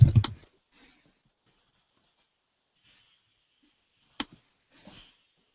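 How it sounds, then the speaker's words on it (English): Brief bursts of computer keyboard typing at a desk during an online call: a quick cluster of clicks at the start, then near silence, then a couple of isolated key taps later, close and crisp. "I was typing."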